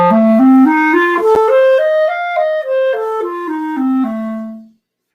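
A solo instrument plays a quick, even run of notes climbing two octaves and descending again, outlining a dominant seventh chord in sixteenth notes before ringing out.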